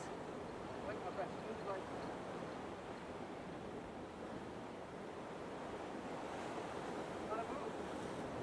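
Ocean swells washing against coastal rocks while fishing, a constant broad rushing roar of surf mixed with wind buffeting the microphone, steady throughout with faint background voices.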